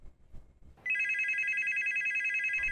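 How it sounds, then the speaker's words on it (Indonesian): A home landline telephone rings with a loud, sustained electronic tone that starts abruptly after a moment of quiet and keeps going steadily, close and alone with no voices. "Tak lama kemudian, telepon rumah berdering."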